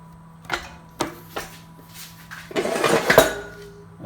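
Metal clanks and knocks ring out as pallet fasteners are loosened on a Ranar Elite six-color, six-station manual screen printing press, three sharp taps followed by a longer scraping rattle, close and alone.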